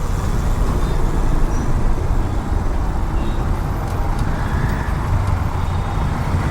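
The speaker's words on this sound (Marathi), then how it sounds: "ब्लॉक आहे आणि गाडी चालते तरी पण तो हॉर्न देतो कंटिन्यू पुढेही ब्लॉक आहे पुन्हा ट्रॅफिक आहे" Congested road traffic on a bridge road rumbles in a dense, steady wash of car, bus and truck engines, loud and close without letting up.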